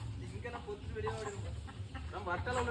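Country hens cluck and squawk in short bursts amid a busy outdoor scene as people chase them, talking and moving around close by.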